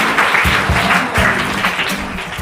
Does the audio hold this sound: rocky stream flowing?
no